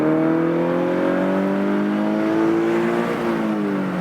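A Scion FR-S / Subaru BRZ / Toyota GT86 engine revs hard toward its redline. A loud, close, rising tone climbs steadily and then levels off near the top.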